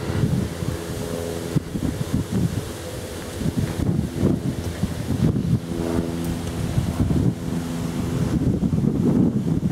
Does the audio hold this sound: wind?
yes